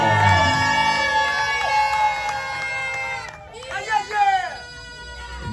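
Wedding guests at a civil ceremony cheer and shout loudly in a crowd, under a bright tonal sound with whistle-like sweeps near the end.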